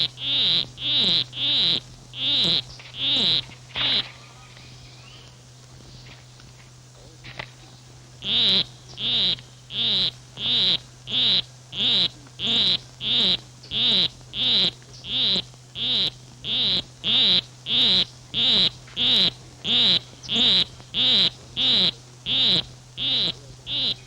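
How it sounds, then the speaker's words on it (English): A male poison arrow frog in a rain forest calls to court a female, a monotonous run of rapid, evenly spaced chirps. The calls are loud and close, with a short pause before the series resumes. "With his monotonous song, he will try to entice her to follow him under a leaf"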